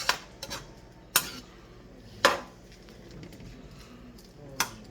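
Vegetables dropped into a pan of chow mein, with a few sharp metallic clinks of a utensil against the pan spaced about a second apart over a faint quiet sizzle.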